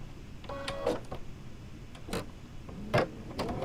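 A sewing machine chain-pieces quilt block pieces, running in several short whirring bursts with brief pauses between them, close and moderately loud.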